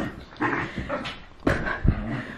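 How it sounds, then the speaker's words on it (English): Several dogs play indoors in a living room, giving sharp yips, whimpers and a few barks in short bursts, close and fairly loud. "my dogs are gonna play now, of course, because I'm trying to film"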